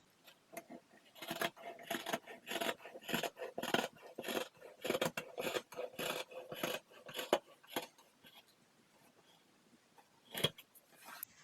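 Scissors snip through IKEA towel fabric in a long run of quick, crisp cuts, close and distinct, with a short pause before a final few snips.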